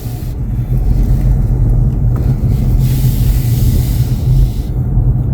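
A car rolls past on a street near a pedestrian crossing, a loud, close, continuous engine and tyre rumble that holds steady for several seconds without any talking.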